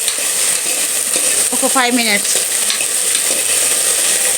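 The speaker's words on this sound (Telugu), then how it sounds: "కొద్దిగా నూనెలో ఫ్రై కావాలి" Okra curry sizzles loudly in oil with steady frying hiss and stirring, while a voice speaks briefly in the middle.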